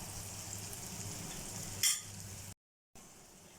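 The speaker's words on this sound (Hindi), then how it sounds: "हमने मसालों को अच्छी तरह से इनकी भुनाई करते रहना है।" Spices roasting in a hot pan for Kashmiri chicken masala give a steady close sizzle, with a brief louder scrape of stirring partway through and a short dropout to silence near the end.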